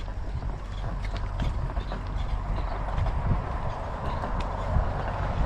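Horse hooves clop at a walk during trail driving, a loose uneven beat over low rumbling and rattling, fairly close, with no speech.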